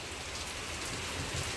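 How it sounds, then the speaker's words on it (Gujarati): Steady rain pours down in a windy storm, a dense continuous hiss of drops hitting surfaces close by, with no voices over it. "જો વરસાદ કેવો પડે."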